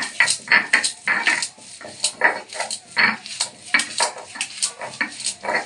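Coriander leaves are ground on a sil-nora grinding stone, with repeated rhythmic scraping and knocking strokes of stone on stone, close and fairly loud, alone without talk.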